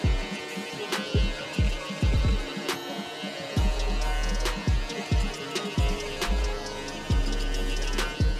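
Electric hair clippers with a number four guard, lever fully closed, buzz steadily through hair in a barbershop combover fade, the hum throbbing and dipping in repeated short strokes close to the mic.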